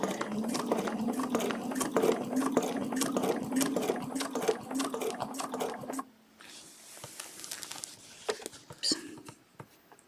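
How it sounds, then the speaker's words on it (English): A sewing machine stitches along a marked spine on quilting fabric for a feather design, a quick rhythmic whirring for about six seconds, then stops, leaving quiet fabric and template handling noises. "So I will simply stitch along my marked spine on my fabric"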